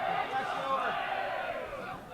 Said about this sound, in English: Big crowd over there cheering on the Eagles squad